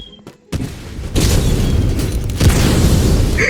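Grenade blasts from a video game weapon: a sudden heavy boom after a brief quiet, then a dense, rumbling roar of explosions that swells again and keeps going loud to the end.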